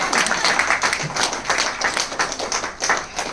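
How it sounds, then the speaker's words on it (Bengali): Audience applause fills a nationwide conference hall: dense, steady clapping from many hands, fairly close and loud, swelling and pulsing for a few seconds with no talk over it. "একটু জোরে হাততালি দিন।"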